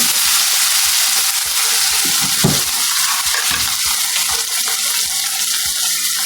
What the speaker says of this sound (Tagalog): Mag-brown na po siya agad kasi mainit na po pala yung aking tawag nun, mantika. So, lagay ko na po agad itong kamatis.